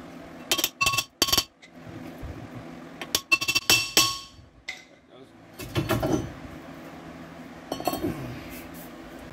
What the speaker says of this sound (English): You should be able to slide your rotor off.